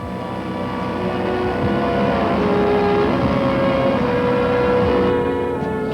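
Loud, steady droning of a three-engine propeller airliner taking off past hangars, roaring continuously at close range, with layered humming tones and no voices.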